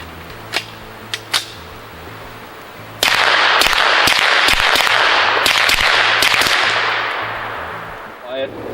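A suppressed Dan Wesson Discretion pistol fires 115-grain rounds at an outdoor range. About ten sharp, rapid cracks follow one another with a reverberant tail, after a few fainter distant pops at the start.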